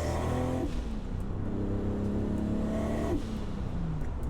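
Toyota Supra with a balanced Dart 3.4L engine driving in the rain, a steady loud engine drone with shifting revs and a gear change around three seconds in, no talking.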